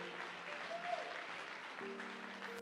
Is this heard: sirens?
no